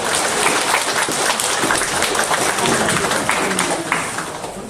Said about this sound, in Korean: 우리 믿음의 박수를 서로에게 한번 날려주시면 좋겠습니다